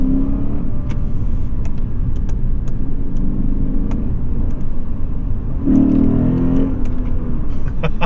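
A Lexus IS500 F Sport with its V8, shifted into Sport Plus and dropped to second gear, hums along under load, then a rising rev swells briefly near the end before settling back to a steady drone.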